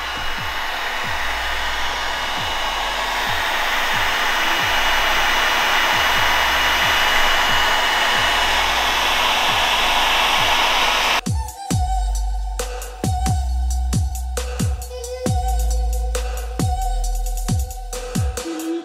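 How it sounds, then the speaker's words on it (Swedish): A hot air blower, sounding like a hair dryer, runs continuously while heating the interior of a Lamborghini Huracan, a steady close rushing whoosh with rhythmic clicks, then a sharper tonal whine joins partway through. "Alltså det är inte varmt, utan det är bara som en hårtork."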